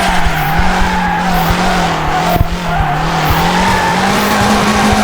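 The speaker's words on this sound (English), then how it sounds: "how to properly drift here in FR Legends" A car in the video game FR Legends drifts with the handbrake, tires squealing in a long continuous screech over a droning engine, loud and up close without pause.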